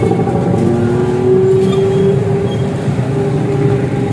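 A 2004 Honda CG125 motorcycle in genuine condition runs with a loud, steady single-cylinder drone up close, its pitch rising slightly mid-way as the engine is revved.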